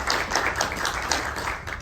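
Audience applause from a group at a leadership talk, a steady wash of clapping with some individual claps standing out, close and moderately loud throughout.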